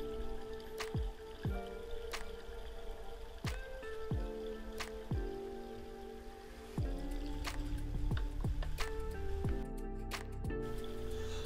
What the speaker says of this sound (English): I then continued this scooping and catching on the areas I knew had the most deposits